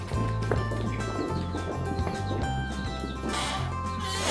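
Mini Highland cows walk into their stalls in a barn, with a steady hum and scattered hoof thuds and shuffling at close range, and no talking.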